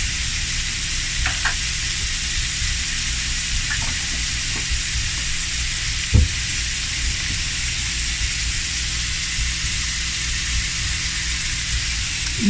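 Vegetables sizzling as they cook in a pan, a loud, steady, close hiss of frying with a few light clinks and taps from stirring.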